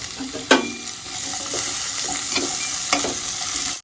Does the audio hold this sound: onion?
yes